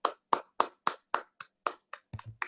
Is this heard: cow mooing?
no